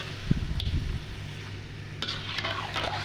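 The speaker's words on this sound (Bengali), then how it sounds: "আমি যেভাবে নেড়ে দিচ্ছি আপনারা এইভাবে নেড়ে দিবেন" Chunks of duck meat and spices are turned in hot oil in a pan, with close scraping and shuffling strokes over a low background sizzle, in short bursts separated by a quieter pause.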